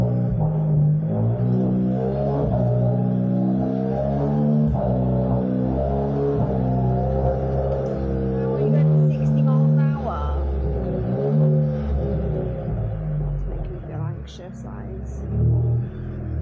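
A car with a DSG gearbox runs with its wheels turning, the engine droning steadily and rising and falling in pitch as it cycles through the gears, close and sustained.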